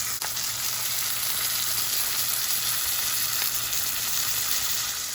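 Karimeen (pearl spot fish) frying in a pan, turned to cook its second side: a steady, even sizzle of hot oil that runs unbroken and fairly loud throughout, with no voices.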